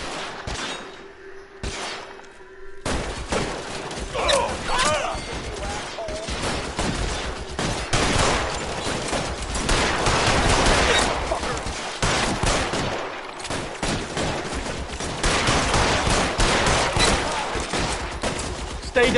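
Heavy gunfire in the video game LA Noire, with a few quiet isolated shots and then sustained bursts of rapid shooting, loud and close, with occasional shouted voices mixed in.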